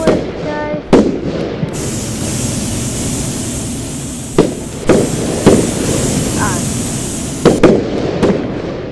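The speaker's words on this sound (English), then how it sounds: "Fireworks, guys!" Fireworks in a video game crackle and pop in a series of sharp bursts over a steady hiss, with several louder bangs spread across the clip and a voice speaking briefly near the start.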